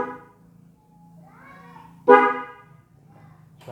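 A Denso snail horn fitted with a relay on a Yamaha Nmax scooter gives a short, loud, brassy honk amid quieter tonal sounds, recorded close.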